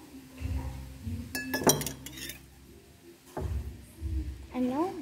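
Metal spoon clinks sharply against a cup while mixing dalgona coffee with water, a few bright taps and scrapes in short bursts, with a person talking softly in between.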